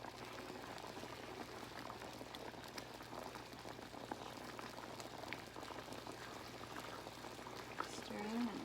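Alfredo sauce of milk and cheese bubbling steadily at a boil in a pan while being stirred, a continuous close simmering crackle with a faint low hum underneath and no talk.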